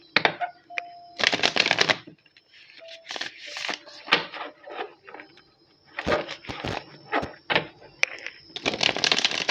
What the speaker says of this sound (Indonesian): Kita shuffle dulu ya.